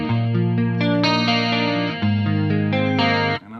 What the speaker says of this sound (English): this is how this clean channel 1 clean should sound with a chorus pedal.